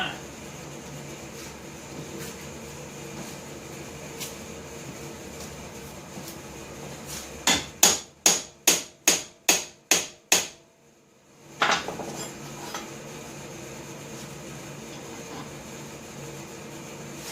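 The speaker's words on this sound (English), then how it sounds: "Hang on, I gotta grab my little hammer." A small hammer taps on metal during a rear PTO rebuild on a John Deere 140 H1 tractor: eight sharp, evenly spaced strikes, then one more after a pause, over steady background hum.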